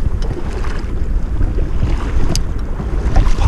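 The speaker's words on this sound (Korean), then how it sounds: "바람이 불고 있습니다." Wind blowing outdoors during early-spring mandarin fish fishing on a river, a loud, continuous rumbling buffet with gusts against the microphone and no voices over it.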